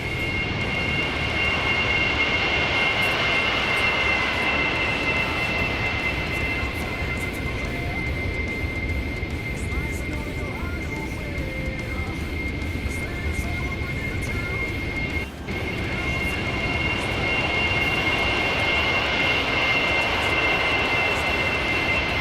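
A-10 Thunderbolt II jet engines roar continuously during an airshow turn in a Roblox game, a loud sustained whine and rumble that holds steady throughout with a brief dip near the end, with no voices heard.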